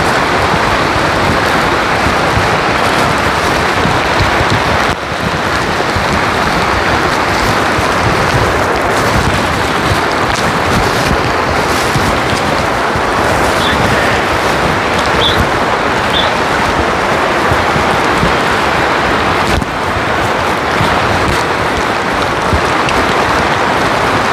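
Steady rain pours outdoors on a cold, wet day, a dense, unbroken hiss of drops falling on the ground, heard alone with no talk.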